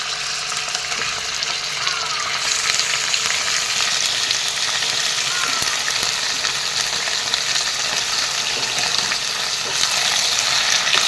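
Chicken pieces frying in a pan with softened onions and stirred around for a dry chicken fry, giving a dense, steady, close sizzle throughout with scraping stirs.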